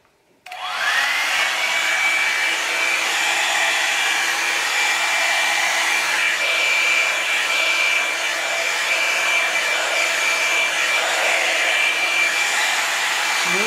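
A Revlon One Step hair dryer and styler switches on and blows steadily at close range, a loud constant whirring airflow with a high motor whine that holds for the whole stretch.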